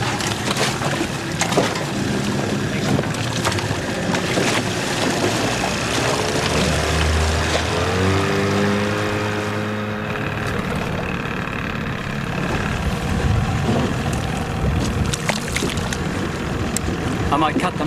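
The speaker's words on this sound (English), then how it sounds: "I might cut the motor so you can hear better." A boat motor runs steadily on open water at Marion Reef, a loud continuous engine drone with people talking over it.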